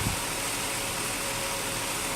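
A 2003 Ford Taurus engine idles after a cold start, giving a steady, even hum with a constant broadband hiss and no change in level across the whole clip.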